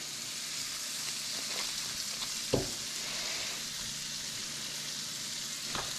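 Crappie fillets fry in butter in a pan, giving a continuous, even sizzle with a soft pop or two over the hiss.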